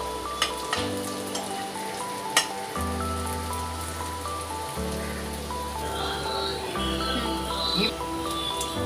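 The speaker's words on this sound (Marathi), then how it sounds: "आता आहे ना मी यांना 5 मिनिटं भाजून घेणार आहे." Stuffed bitter gourds (bharli karli) frying in a little oil in a pan, a steady close sizzle and crackle with a few sharp pops, under a continuous low hum and no talk.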